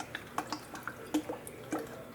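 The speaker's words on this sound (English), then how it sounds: "Now I'm going to get some lemon juice on them." Lemon juice dripping onto split lobster halves and into water below, a handful of small irregular drips and splats close by with no talk.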